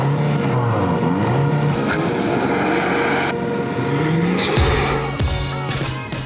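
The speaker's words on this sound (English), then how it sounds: "Loud V8 mornings are so rare these days." BMW XM plug-in hybrid super-SUV with a V8 engine, loud and close, revving up and down in repeated rising and falling sweeps, then a deeper sustained roar near the end, alone without talk.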